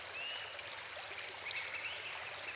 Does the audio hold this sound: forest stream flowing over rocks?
yes